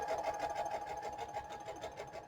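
A lightweight sewing machine runs continuously up close, its rapid rhythmic stitching whir steady and moderately loud throughout, with no voice.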